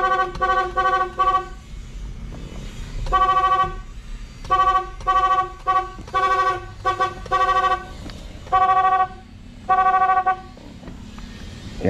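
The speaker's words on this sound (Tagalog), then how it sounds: "tingnan ninyo mga kalyabe yung tunog ng busina natin" A car horn wired through an interrupter relay blares in rapid chopped bursts, loud and near, each blast stuttering into quick on-off pulses with short pauses between groups, over low background noise.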